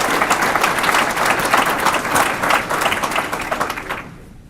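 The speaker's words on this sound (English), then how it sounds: "Let's give her a round of applause" Audience applause at an evening reception honoring a state senator, a dense sustained burst of many hands clapping that holds steady, then thins and fades out in the last half second.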